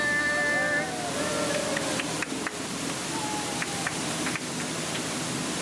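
A waterfall pours beside the Jungle Cruise boat ride at Walt Disney World's Magic Kingdom, making a steady, close, broadband rushing roar that fills the whole clip, with faint tonal sounds from the ride drifting underneath.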